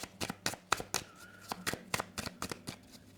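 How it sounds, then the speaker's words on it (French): Angel oracle cards being shuffled by hand, a rapid series of crisp riffling slaps and flicks, close and fairly quiet, with no talk over them. "Je vous propose de tirer une carte des messages des anges, une carte message du Conseil des anges."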